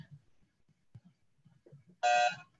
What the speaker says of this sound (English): Ray, you want to try your buzzer